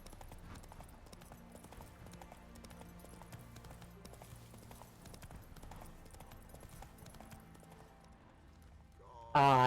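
Geralt's horse Roach gallops in The Witcher 3, a steady rhythmic clip-clop of hooves under game music and a person talking, ending in a sudden loud tonal burst.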